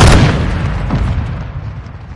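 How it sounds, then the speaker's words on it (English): Hostile mortar strike in a video game firefight: a heavy close explosion bursts at the start, then a rumbling boom that decays and fades over two seconds. "Hostile mortar strike near your position."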